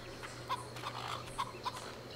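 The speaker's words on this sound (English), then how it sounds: "Chickens." Chickens in the video game Fable: The Lost Chapters give a few short, clipped clucks over a steady low game hum, three brief calls spaced across two seconds.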